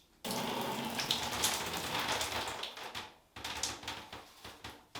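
Water squirts hard from a tightly squeezed douche bulb, a loud steady hissing spray that cuts off briefly and then resumes in sputtering pulses.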